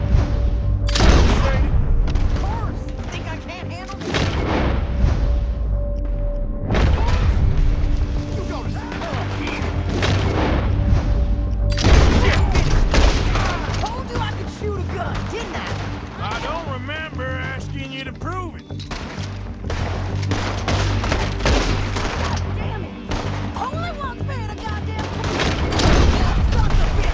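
A loud, dense shootout in Red Dead Redemption 2 brings repeated booming gunshots and volleys throughout, with people talking in between the blasts.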